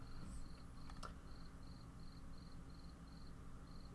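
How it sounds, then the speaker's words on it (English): Crickets in the video game Blue Prince chirp in short, regular bursts about twice a second, faint and steady over a soft background hiss, with one brief click. "you're supposed to be hearing crickets and gems from the game"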